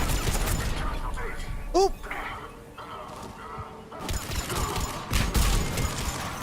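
Gunfire bursts and turret fire crackle through a Mass Effect firefight in short, uneven volleys. Players chat over the action throughout.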